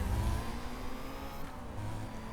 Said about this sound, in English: this sounds a lot like a Skyline